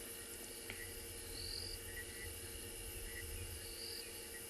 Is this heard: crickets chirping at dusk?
yes